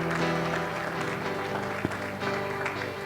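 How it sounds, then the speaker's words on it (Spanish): Applause from a church congregation for Jesus during a sermon, a dense sustained wash of many hands with music or organ tones held underneath throughout. "Dele fuerte ese aplauso a Jesús."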